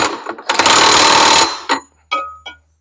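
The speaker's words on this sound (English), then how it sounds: "So I'm going to hit this with the impact real quick." Impact wrench tightening a generator rotor: a loud, close burst of rattling hammering about a second long, followed by a couple of brief short bursts as the fastener seats.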